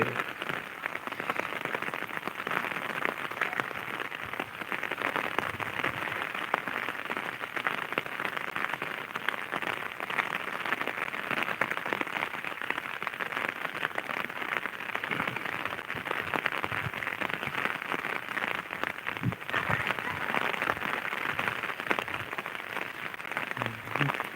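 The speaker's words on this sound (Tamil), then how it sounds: "மழை வந்து பெஞ்சு குறையவே மாட்டேங்குது" Continuous rain falls over farm fields, making a steady, even hiss of drops with no letup. It stays moderately loud throughout, with no talking.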